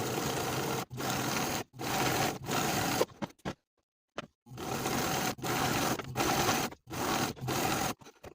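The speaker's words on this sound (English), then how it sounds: "from the front side of the piece, I'm going to top stitch those seam allowances in place about 1/4 inch away from the main seams" Sewing machine top stitching jacket seam allowances about a quarter inch from the main seams, running in steady bursts of stitching separated by short pauses, with a longer silent break midway.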